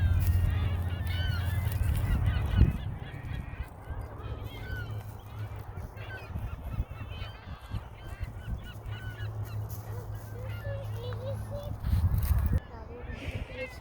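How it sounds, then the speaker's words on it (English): Geese honk repeatedly across an outdoor scene, the calls scattered and moderately close over steady low rumble, while a person talks over them. "Sound of peace of birds."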